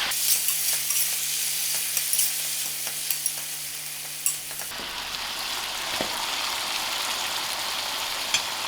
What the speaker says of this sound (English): And now I'll give it a good stir.